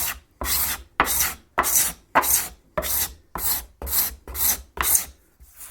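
A hand scraper pushed across wood, cutting shavings in nine even, rasping strokes about two-thirds of a second apart, each a loud, close scrape followed by a short pause, with no talk.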